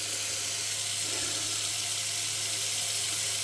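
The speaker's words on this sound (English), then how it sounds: "So now if we go to the sink, as I said, this water is not mixed with any cold water right now." Hot water runs steadily from a sink faucet at full heat, unmixed with cold, in a home during a water heater check, a constant close hiss and splash with a low hum beneath and no talking.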